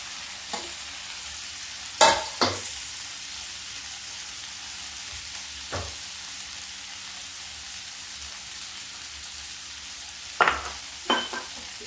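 Spiced vegetable curry is roasted in a pan with a faint background hiss, punctuated by a handful of sharp, sparse spatula knocks and scrapes against the metal.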